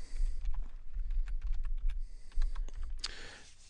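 A computer keyboard is typed on in a steady run of close, rapid keystrokes, ending in a sharper, louder key press as enter is hit.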